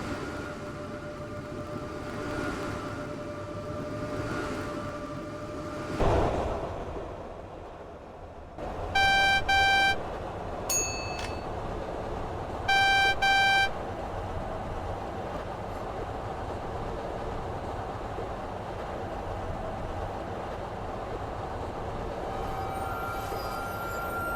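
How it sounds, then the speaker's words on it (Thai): A subway train in the video game Rail Ultimate 2 hums steadily as it pulls away, with a few bright electronic chime and tone sequences sounding over the rumble; no one speaks. "รถไฟก็กำลังออกแล้วครับ"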